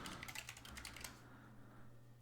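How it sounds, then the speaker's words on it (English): Quick run of keystrokes on a computer keyboard while an email address is typed, close and clear for about a second, then stopping, leaving a low steady hum. "just keep on typing their email addresses in the email address bar and press Add"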